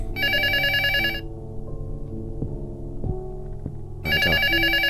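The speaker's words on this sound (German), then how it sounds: "Das Telefon klingelt." A telephone rings inside the video game Luto, sounding in two loud bursts at the start and end with a quiet, eerie ambient drone in between; no talking.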